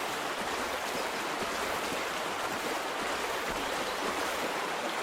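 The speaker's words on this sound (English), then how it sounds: "This water is so loud." Loud rushing stream water fills the scene from start to finish as a dense, steady roar. It is close and continuous, in an outdoor hunting setting from the Cabela's Big Game Pro Hunts video game, with no voices.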